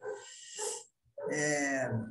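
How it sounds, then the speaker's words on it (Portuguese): A dog barks nearby, two separate bursts of tonal, whining barks with a short silence between them, the second longer and louder. "um cachorro agora está incomodando"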